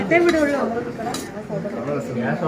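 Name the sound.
Kashmiri pulao being transferred into a serving dish, utensils clinking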